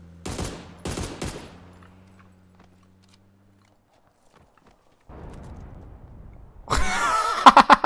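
PlayerUnknown's Battlegrounds gunfire: a few sharp shots early, then a quiet gap and low rumble, before a rapid loud volley of cracks near the end, with no talking over it.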